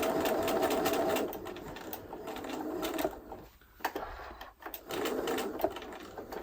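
A sewing machine stitches a fabric pouch for a baby tooth, a steady close whirring run of needle strokes that pauses briefly mid-clip and then starts again.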